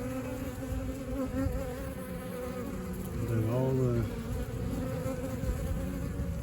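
Honey bees buzz continuously at close range, a low droning hum that swells briefly in the middle, with a few quiet spoken words.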